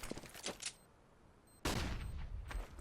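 Pistol gunfire in a Counter-Strike match: a few quick, fairly faint shots, then a pause, then a louder, denser burst of firing that carries on to the end.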